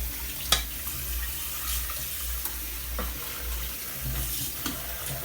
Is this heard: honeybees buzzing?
no